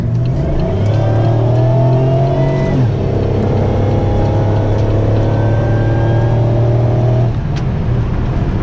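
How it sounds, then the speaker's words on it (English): A loud, steady supercharged Pontiac V6 engine roar with a rising high-pitched supercharger whine layered on top, sustained throughout at close range. "You should be able to hear the supercharger whine."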